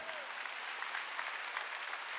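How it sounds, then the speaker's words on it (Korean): Church congregation applauding during a Sunday worship service, a dense, steady wash of clapping hands filling the room at an even level throughout, with no voices standing out. "빨리 박수 치라고."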